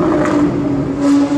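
A Rolls-Royce Ghost's engine hums loudly as it passes close by, the tone swelling and easing over a second or so.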